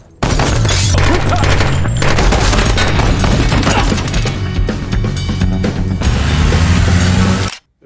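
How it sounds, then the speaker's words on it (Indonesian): Dense, loud bursts of gunfire from the film 2 Guns (2013) crackle almost continuously for several seconds amid a thick cinematic din, then cut off abruptly. "Stick terpaksa melepaskan tembakan untuk mengalihkan perhatian musuh agar Bobby dapat kabur dengan selamat"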